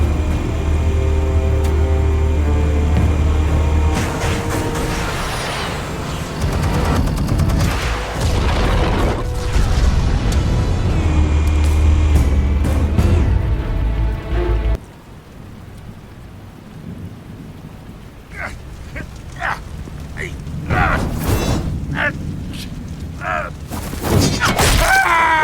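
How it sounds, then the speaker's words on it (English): Video game explosions boom loudly in rapid succession over a roaring, rumbling bed for about fifteen seconds, then drop to a quieter backdrop broken by scattered sharp blasts. "Explosives armed. Fire when ready."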